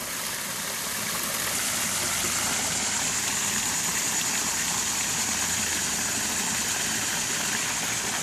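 A waterfall pouring into a pond, heard as a steady, broadband rush of falling water that holds even and continuous throughout, with a faint low hum underneath and no voices.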